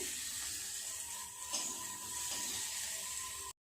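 Onions frying in a pan, a faint, steady sizzle with a light ticking, scraping texture, cutting off abruptly at the end, no talk.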